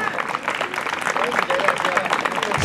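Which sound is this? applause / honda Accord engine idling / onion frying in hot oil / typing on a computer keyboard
applause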